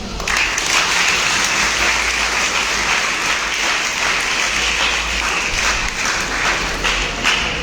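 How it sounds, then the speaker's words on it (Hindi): Seminar audience applauding loudly and steadily, a dense wash of many hands clapping that holds for the whole stretch with no break. "एक बार और जोरदार ताली हो जाए।"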